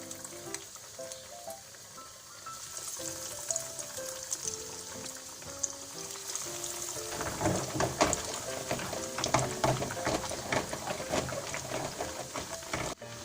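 A vegetable burger patty drops into hot oil and fries with a steady, dense sizzle that swells and crackles louder partway through, over quiet background music.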